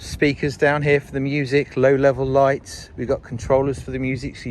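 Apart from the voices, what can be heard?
None of the usual background noises is heard.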